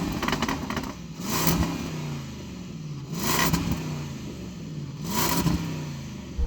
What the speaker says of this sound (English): let's have a listen to that rev up